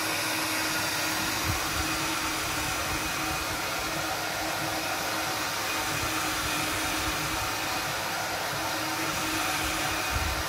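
A hair dryer blows steadily and loudly with no pauses while drying freshly applied decorative plaster on a wall to create an aged, cracked old-wall effect, the broadband whoosh holding even from start to end.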